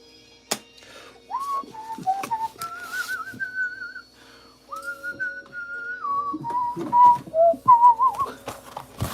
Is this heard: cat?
no